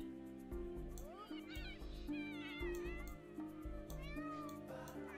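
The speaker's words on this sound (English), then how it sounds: "Oh, there's cats!" Cartoonish cats in The Sims 4 give a string of high, wavering meows over light game music and soft rhythmic footsteps.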